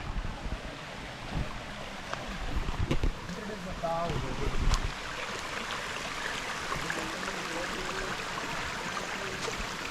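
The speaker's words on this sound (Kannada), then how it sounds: "ಇಲ್ಲೊಂದು ಫಾಲ್ಸ್ ಐತೆ" A waterfall on the Kumara Parvatha trek gives a continuous broadband rushing roar. Wind buffets the microphone, and faint voices can be heard in the middle.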